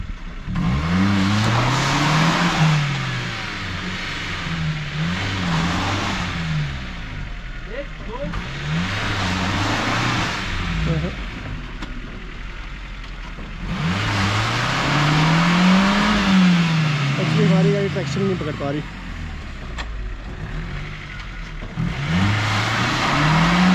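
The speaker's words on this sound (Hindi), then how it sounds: "गाड़ी हम एक्चुअली टोचन करके निकाल रहे हैं क्योंकि बुरे हाल से फंस गई ना" A stuck car's engine revs repeatedly in rising and falling surges as it is towed out of ice by a Gipsy pulling from the front, loud and close, with people talking over it.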